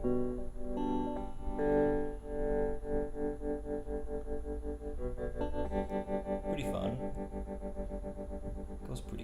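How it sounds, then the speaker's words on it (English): Electric guitar chords ring through a distorted Ammoon Pockamp 80 amp tone with a wavering, pulsing tremolo shimmer, sustained and fairly loud, no voices. "so now we're in tremolo territory"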